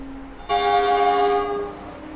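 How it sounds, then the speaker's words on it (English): TGV train horn sounding on departure in Transport Fever 2, a single loud sustained tonal blast lasting over a second, starting abruptly after a quieter hum and then tapering off. "That's quite a horn."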